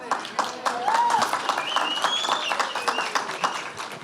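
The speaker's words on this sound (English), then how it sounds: "I was going to wait one more line before the applause, but we can do it now, too. Let's hear it for libraries." An audience applauds at a morning news conference celebrating the Madison Public Library's 150th anniversary: steady, dense clapping of many hands that holds for several seconds, with a few faint whistles rising above it.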